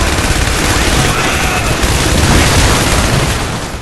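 Turret machine gun fire in the VR wave shooter Heavy Fire: Red Shadow VR roars as dense, continuous bursts, loud and close, without pause for the whole span.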